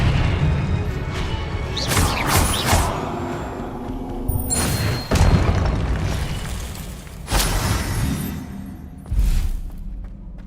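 Booming spell explosions from the Confringo curse in Hogwarts Legacy, with several loud, deep blasts and crashing bursts spaced a few seconds apart over a dense rumbling game soundscape.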